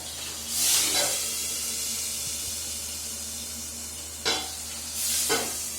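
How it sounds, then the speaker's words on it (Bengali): Tangra fish fry under a cover in hot oil, a steady low sizzle with a few sharper spitting bursts as the fish sputter, heard close with no talking. "ট্যাংরা মাছ ভাজতে গেলে আমি চাপা দিয়েই করি প্রচণ্ড পরিমাণে ফোটে"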